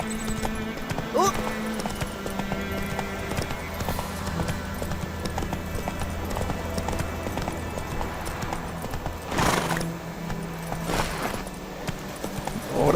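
Roach the horse in The Witcher 3, hooves clip-clopping at a gallop in a steady rhythmic pattern under game music and sound effects, with a voice speaking over it.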